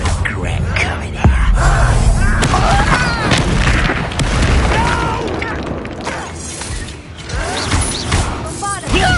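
Bombarda blasting spell explodes repeatedly in a Harry Potter action game, loud booms and crackling impacts amid combat clatter and mechanical noises, with voices shouting through the fight.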